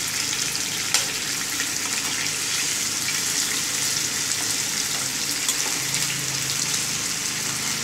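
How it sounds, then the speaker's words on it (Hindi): Stuffed bitter gourds (bharwa karela) frying in a pan, a steady dense sizzle with spattering, soft scraping and shifting as the gourds are turned over, with no talking. "ऐसे हमें पलट पलट के ही इनको फ्राई करना है।"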